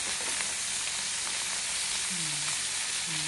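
Torta omelette sizzles in a frying pan with a dense, constant crackling hiss, close and steady throughout, and a few faint tonal squeaks rising through the sizzle.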